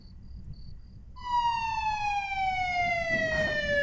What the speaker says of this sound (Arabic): الاسعاف وصلت بره.